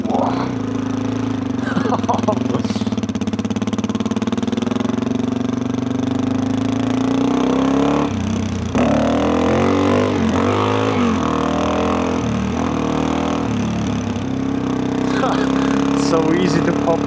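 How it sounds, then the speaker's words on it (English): A lightweight adventure motorcycle on snowy forest backroads holds a loud, steady engine drone that rises in revs as the front lifts, with wind buffeting and a rider talking over it. "So easy to pop a wheelie with this bike now."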